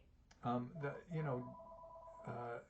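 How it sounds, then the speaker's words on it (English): A phone rings with a junk call, its tone sounding in a few short bursts under nearby talk. "My phone's ringing."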